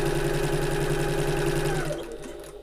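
A home sewing machine runs a steady back stitch, its fast motor hum loud and continuous before easing off near the end.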